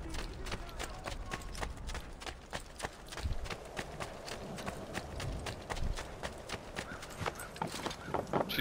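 Horse hooves clip-clop at a steady trot in Assassin's Creed 2, a sharp, even rhythm of close strikes running throughout with no pauses.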